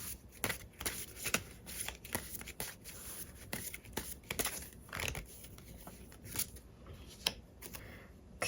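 Close, soft riffling and tapping of tarot cards being shuffled in a steady, uneven patter of papery flicks for several seconds, quiet with a faint background hum and nobody speaking.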